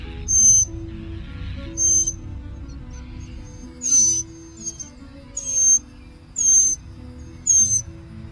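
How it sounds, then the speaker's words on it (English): Baby mockingbirds calling from their nest: a series of six or seven short, sharp high-pitched chirps at irregular intervals over a low background rumble, close and moderately loud. "National Audubon says these are beautiful singing birds."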